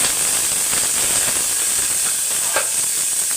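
Shallots, cumin and curry leaves sizzle in hot oil while cooking sambar rice, a steady close hiss with faint stirring crackles and no talk.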